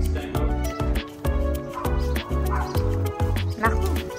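A dog barks and whimpers over and over, producing a rapid chain of close, loud yips and whiny cries with tonal whines in between that carry on without pause.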